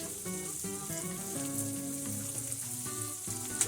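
A steak sizzles in a hot pan alongside a crushed, hand-torn addition, giving a steady broadband frying hiss throughout beneath background music.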